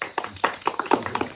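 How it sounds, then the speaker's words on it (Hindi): A few people in a casual home setting clap, about a dozen light, uneven claps close by and fairly quiet. "हाँ हाँ, तालियां होनी चाहिए यार।"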